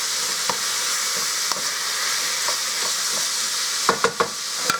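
Ground beef and a small onion browning in a pan, a steady hissing sizzle with a few sharp spatula scrapes and taps near the end, close by.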